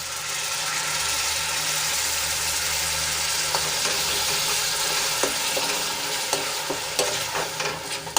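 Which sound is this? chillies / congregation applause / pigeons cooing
chillies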